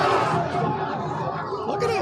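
Crowd din from January 6 riot footage at the Capitol, a dense continuous roar of many voices shouting and chattering together, loud and steady throughout with no single speaker standing out.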